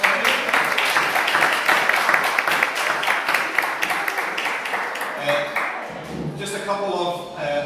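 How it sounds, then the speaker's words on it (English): Congregation at an all-age Sunday church service breaks into close, dense applause that fades after several seconds, with people talking as it dies away. "Round of applause."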